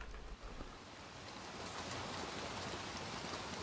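Rain falls steadily in the dark game Little Nightmares 2, a soft, even hiss of drops on surfaces that grows slightly fuller over a few seconds with no voices.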